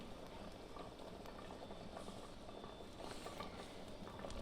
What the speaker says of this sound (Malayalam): കപ്പ ഇവിടെ കിടന്ന് തിളയ്ക്കുന്നുണ്ട്.